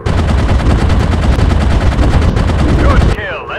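A sustained, loud burst of rapid machine gun fire from a World War One fighter plane in Warplanes WW1 Sky Aces, steady and continuous for about three seconds before cutting off to engine drone.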